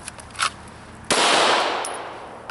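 A handgun fires a single loud, close shot after being drawn from a holster under a cover garment, preceded by a faint rustle and followed by a long fading echo.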